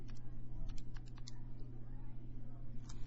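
Fingers pressing keys on a graphing calculator keypad to enter an equation, a series of light quick clicks, then a short pause and one more tap, over a low steady hum.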